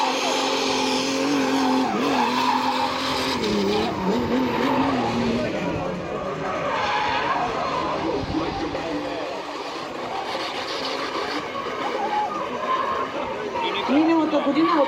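Drift cars at a Bulgarian drift championship round skid with long tire squeals and engine revs, loud and continuous, under an excited commentator calling the run.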